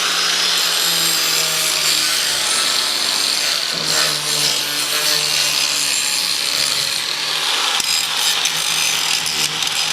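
Metal four-bar brackets on a dirt late model race car being ground with a power tool, a loud, close, continuous abrasive whine and rasp lasting throughout, without speech.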